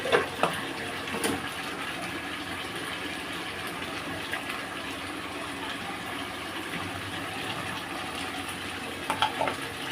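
Ginger, green chili and tomato paste fry in a pan for a chicken curry, making a continuous, moderately loud wet sizzle with a few scraping stirs near the start and end.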